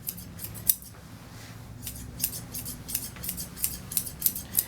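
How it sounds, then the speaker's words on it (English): Curved 8.5-inch grooming scissors trim a Goldendoodle's bushy tail fur, giving a series of crisp, close snips in quick irregular bursts over quiet background noise, with no talking. "I'm going to come back and scissor that tail area"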